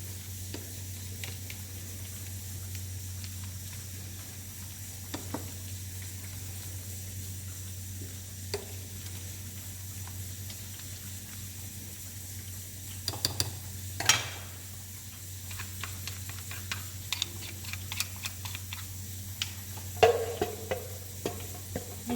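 Chicken quiche filling stirred in a hot pan: a steady soft sizzle of frying runs throughout, with scattered scrapes and taps of the spoon against the pan growing more frequent toward the end.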